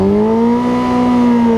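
A 2016 Kawasaki Ninja H2 motorcycle engine revs hard and close, a loud, steady high-pitched drone that climbs slowly in pitch without a break.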